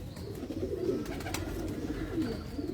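Gallery pigeons coo softly in a low, rolling murmur, close by and continuous, with faint background sounds around a pigeon loft in Lahore.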